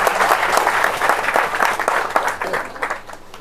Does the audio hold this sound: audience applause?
yes